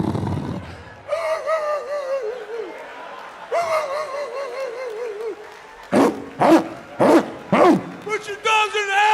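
A comedian's voice imitates dogs barking and yipping, loud and close, first as drawn-out yelping howls, then as a burst of rapid sharp barks, delivered alone between lines of speech.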